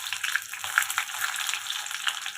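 Garlic dropped into hot oil already holding mustard seeds and cumin, a steady close crackling sizzle with bright spitting bursts throughout, no voices.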